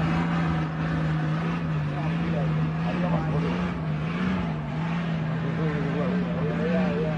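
A car engine with a loud exhaust hums and burbles steadily, the pitch wavering slightly as it rolls along, with faint voices underneath.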